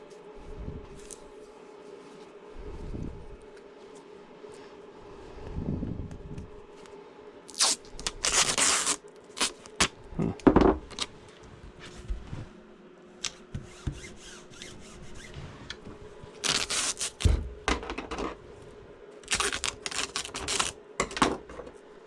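Scissors slice through paper in short bursts of crisp cutting and crunching, several separate strokes spread across a fairly quiet stretch, close by and with no one speaking.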